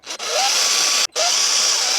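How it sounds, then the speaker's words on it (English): A power drill with a 1.5 mm bit bores a pilot hole during an e-bike conversion of a full-suspension mountain bike, running in two steady, loud whining bursts separated by a brief stop. "hopefully that's still going to give us enough room with the drill bit to get in there and drill those holes"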